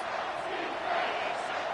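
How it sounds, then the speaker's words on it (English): A football video game crowd roaring in a stadium on a defensive third down, a steady dense wash of cheering voices that swells slightly midway. "Decibels rising as the crowd gets behind this defense on third down"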